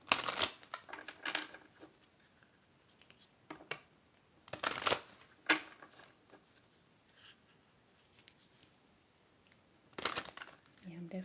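Moonology oracle cards are shuffled in a quiet ASMR tarot reading, with a few bursts of riffling and card slaps separated by soft handling noises and near silence.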